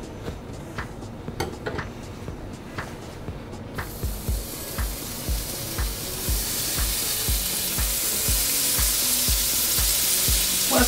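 Bacon hits a hot pan and breaks into a loud, steady sizzle that swells and thickens, with light clinks of cookware and utensils early on.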